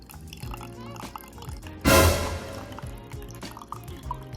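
Homebrew beer is poured from a bottle, a short gush of liquid that rises suddenly and trails off into soft dripping, fairly close and alone.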